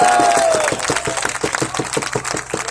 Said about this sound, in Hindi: आपकी तालियां मुझे बताना चाहना चाहिए।